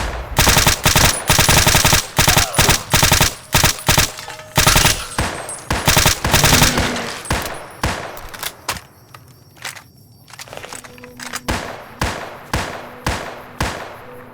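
Rapid automatic gunfire from the video game Fallout New Vegas: loud, dense volleys that keep hammering, then thin into shorter, spaced bursts with brief gaps between them.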